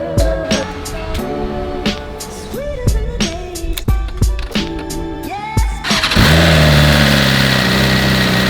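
A 2020 BMW S1000RR sport bike with a freshly flashed ECU, first a few sharp clicks and short blips against a busy background, then the engine fires quickly and settles into a loud, steady, close idle.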